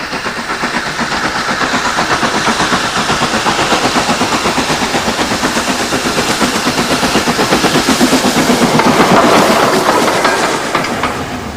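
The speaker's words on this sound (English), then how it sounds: "They only have old steam engines here and beautiful old carriages" Old steam train running on the Bluebell Railway, a private heritage line in England, with vintage carriages: steady rhythmic clickety-clack of wheels over rail joints and a hissing rush of steam, loud and continuous, swelling slightly toward the end.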